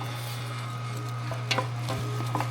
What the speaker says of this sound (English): The old grinder's just ripping right through it